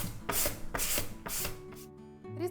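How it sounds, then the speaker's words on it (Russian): Peeled pumpkin is rubbed down a coarse vegetable grater in rhythmic rasping strokes, four or five close scrapes, with faint clinks of the grater after the strokes. "Тыкву нужно потереть на крупной терке или на терке для овощей по-корейски."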